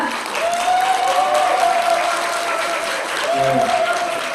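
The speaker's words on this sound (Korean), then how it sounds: "큰 박수로 모시겠습니다" Steady, full applause at a blockchain forum in Korea, greeting SK Soft Group chairman Kim Young-geun before his talk; the continuous clapping fills the hall, with a faint sustained tone running underneath.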